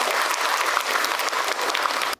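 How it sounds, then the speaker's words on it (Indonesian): A studio audience at an Indonesian Islamic Q&A talk show bursts into steady, dense applause that holds for about two seconds and then cuts off abruptly. "Tepuk tangan atuh. Buat Bunda."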